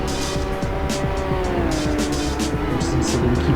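GT3 race cars roaring around the Zandvoort circuit in the Assetto Corsa racing game, engines droning at high revs continuously with tires squealing through a corner, loud and steady throughout.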